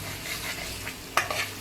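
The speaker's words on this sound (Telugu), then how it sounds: "దాన్ని కూడా వేసి బాగా ఫ్రై చేసుకోవాలి." Ginger garlic paste sizzles and fries in a pan for a chicken dish, a soft steady hiss broken by a sharp stirring scrape near the end.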